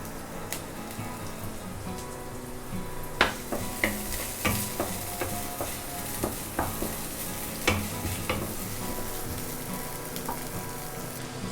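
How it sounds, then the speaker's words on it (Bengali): Chopped onions frying in about two tablespoons of hot oil, a soft continuous sizzle broken by repeated sharp spatula clacks and stirring scrapes against the pan. "তেলটা হালকা গরম হয়ে আসলে এখানে দিয়ে দিতে হবে পেঁয়াজ কুচি।"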